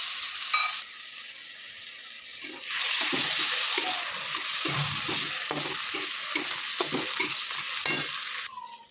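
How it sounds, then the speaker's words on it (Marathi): Tomatoes fry with garlic and onion in a hot pan, producing a loud, steady sizzle close by, broken by repeated scraping and clinking stirs of a utensil against the pan. "आता आपण टमाटर टाकूया आणि टमाटर पण भाजून घेऊया"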